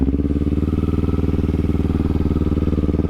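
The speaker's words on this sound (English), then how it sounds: "I love the way she sounds when we ride, and that is reason 3 why I like the Kawasaki Z400" A Kawasaki Z400 motorcycle engine runs close and loud, holding a steady, throbbing idle with an even, rapid pulse throughout.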